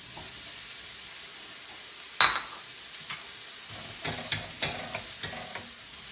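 Mushrooms frying in a pan make a soft, fairly quiet sizzle, broken by a sharp clatter as they go in and then scattered stirring taps.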